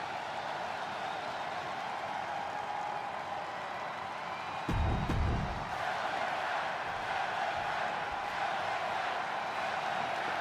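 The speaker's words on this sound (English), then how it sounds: "The crowd is chanting LA Knight" A wrestling arena crowd in the WWE 2K25 game keeps up a steady, distant roar for a wrestler's entrance, with a brief louder, rumbling swell partway through and no clear chant rhythm.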